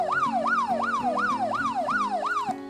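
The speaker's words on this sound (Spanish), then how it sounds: "voy a seleccionar acá sirena de policía y pues voy a darle play" A recorded police siren plays back in a signal-analysis demo, wailing in a fast, regular rising-and-falling cycle about seven times, loud and continuous before cutting off abruptly.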